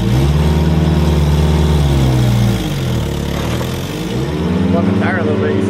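A Toyota truck's engine runs close by while backing in, a loud steady rumble that dips as the revs drop and then picks back up, with people talking nearby.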